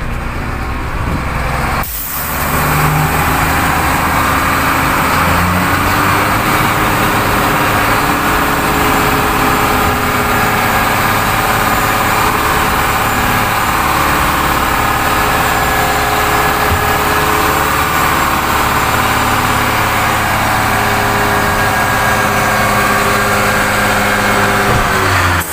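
A HOWO dump truck's diesel engine runs loud and steady while the bed dumps, a continuous heavy rumble with a brief dip near the start, no talking.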